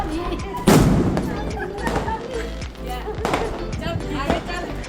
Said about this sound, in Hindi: उसके बाद हमने पटाखे वगैरह फोड़े।